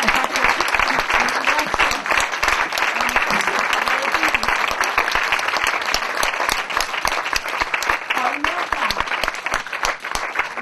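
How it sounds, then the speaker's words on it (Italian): Sustained audience applause fills the room, dense and steady throughout, with many hands clapping at once and no voices standing out. "sono stati tutti molto applauditi"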